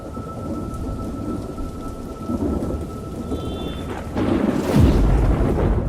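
Heavy rain pours steadily from dark storm clouds while thunder rumbles and then cracks louder near the end, with no voices.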